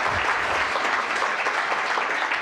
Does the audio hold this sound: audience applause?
yes